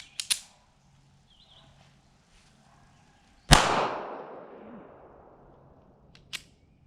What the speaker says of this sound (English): So let's just pull it and shoot and see what happens.